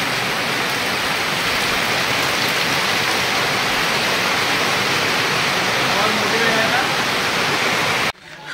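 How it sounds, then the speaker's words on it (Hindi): Heavy rain pouring steadily on a house in Uttarakhand while water leaks through the roof into pots set out to catch it, a loud constant wash of rain that cuts off abruptly near the end. "ये देखिए जगह जगह से पानी गिर रहा है"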